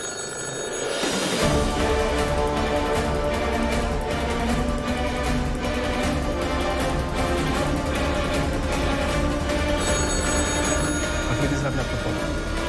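A telephone rings with a loud, continuous electronic trill in an office setting, carrying on for several seconds alongside background music and ambient noise.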